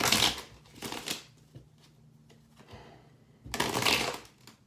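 Tarot cards riffle-shuffled up close in quick bursts, a pause with faint handling, then another crisp riffle.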